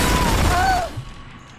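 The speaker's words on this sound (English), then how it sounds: "Now test the auto rifle." An auto rifle in the Destiny shooter during an Iron Banner test, a short loud burst of rapid fire that fades into a decaying tail within about a second.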